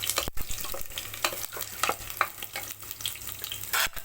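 Garlic frying in a pan for beetroot rice, a busy crackling sizzle with repeated stirring scrapes and clinks close by, no talking.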